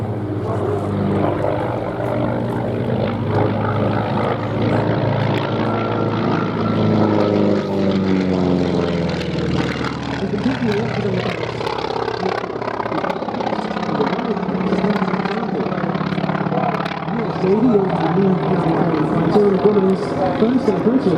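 A Grumman FM2 Wildcat naval fighter from late World War II, built by General Motors, droning with a steady propeller engine at an air show, loud and continuous while a commentator talks over it.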